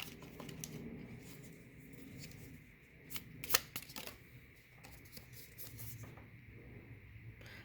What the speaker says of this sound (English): let's get a Rumi card